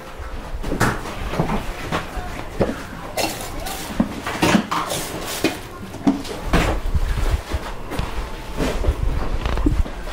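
Glasses, a jug and pots are put away in a kitchen cupboard: scattered clinks, knocks and thuds of glassware and kitchenware, close and irregular, with cupboard sounds and footsteps throughout.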